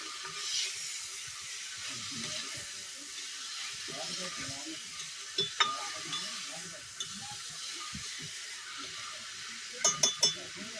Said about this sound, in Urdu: اَسہِ چھُ ہاکھ وۄنۍ اَصٕل پٲٹھۍ فرٛاے کَرُن.